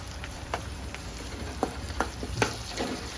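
Curry leaves and ginger garlic paste fry in a pan for chicken curry with a steady sizzle, broken by a few clinks and stirring scrapes.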